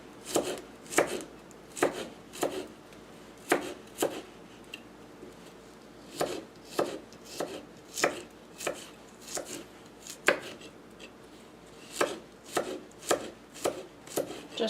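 A knife slices garlic cloves on a cutting board in a steady run of crisp, close taps, with a few short pauses between bursts.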